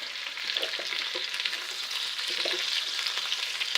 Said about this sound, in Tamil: ஃபஸ்ட்டு தாளிச்சதையுமே போட்டுட்டு கொஞ்சம் நேரம் வணக்கி விடணும்